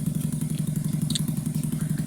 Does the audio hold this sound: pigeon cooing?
no